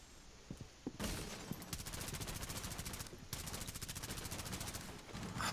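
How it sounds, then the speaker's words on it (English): Sustained automatic gunfire in Rainbow Six Siege, rapid loud bursts fired out through a window, with a short pause between two long strings of shots. "they're definitely shooting out that window"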